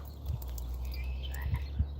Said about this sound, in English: you can hear frogs right now.